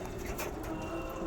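Pigeons coo softly while feeding, a short low murmuring call heard faintly against steady background noise.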